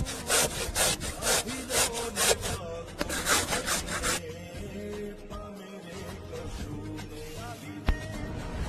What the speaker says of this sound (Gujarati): ગાજરને છીણી લઈશું